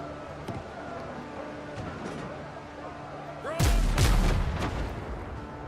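Heavy ship cannons fire during a naval battle in the Windrose pirate game, a loud booming burst with several overlapping blasts that rings out after a stretch of quieter ambient game sound, with voices talking throughout.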